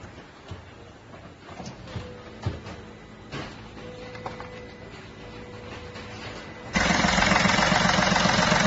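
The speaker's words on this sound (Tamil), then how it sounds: "வெஹிக்கிள் ஸ்டார்ட் பண்ணியாச்சு, ஓடிட்டு இருக்கு." A vehicle engine idles steadily for an injector test, a low mechanical hum with faint ticking and tonal whine, growing abruptly louder and rougher near the end.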